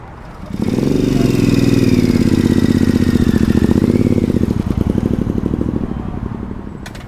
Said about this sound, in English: we had a newcomer show up. Second Ducati of the morning